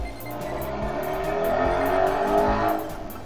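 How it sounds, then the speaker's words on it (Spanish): A car drives past outside, its engine and tire noise swelling as it approaches and fading away, with light rhythmic clicking above the roadway rumble. "No es un camión, es un pinche carro"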